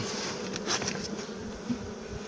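Honey bees cluster around a hive box while a nuc is prepared for winter. Their dense, continuous buzzing stays close and steady, with a few louder individual bees passing near, and no talk.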